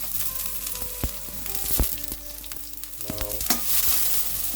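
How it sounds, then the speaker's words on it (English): Garlic, ginger and the white of spring onion frying in a hot wok, a steady close sizzle with scraping stirs and clanks of the utensil against the metal. "our wok is hot, and the number one thing that goes in is the garlic and ginger, and to it also the white of the spring onion"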